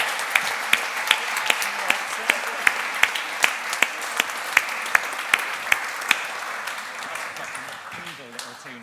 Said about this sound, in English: Let's give a round of applause for Nicky